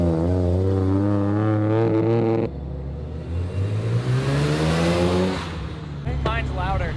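Modified Mazda RX-7 FD rotary engine revs hard and loud at a drag test, pitch climbing through several pulls with a drop between, rumble and whir, while people talk over it.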